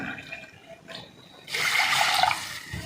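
Water is poured into rice flour for idiyappam: a quiet start, then a steady, fairly loud rushing pour that runs for over a second before stopping.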